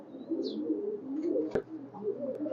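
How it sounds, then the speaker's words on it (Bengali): A Mysore pigeon in a loft coos low and close in a steady murmur, with a few faint chirps and a sharp click midway. "এটা মহীশূর কবুতর"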